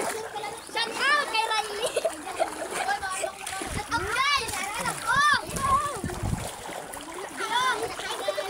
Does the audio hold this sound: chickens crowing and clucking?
no